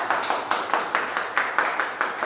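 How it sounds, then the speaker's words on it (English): An audience at a Toastmasters club meeting claps in a steady, evenly spaced rhythm, about ten sharp claps in just over two seconds, moderately loud and close, with no talking. "Good clap."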